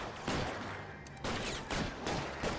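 Police gunfire from LA Noire, with a few close, sharp shots in quick succession over a dense background din.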